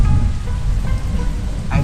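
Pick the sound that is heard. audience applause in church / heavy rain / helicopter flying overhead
heavy rain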